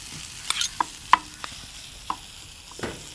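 Boiled mashed potatoes for vada pav filling are mixed by hand in a bowl, with scattered soft scrapes and taps against a quiet background.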